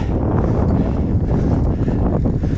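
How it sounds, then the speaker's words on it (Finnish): Steady, roaring wind buffets the microphone during a countryside bicycle ride, with the crosswind coming from the rider's right; the rumble is loud and continuous throughout, with no voices. "Tällä hetkellä tuulee tuolta minusta katsottuna oikealta."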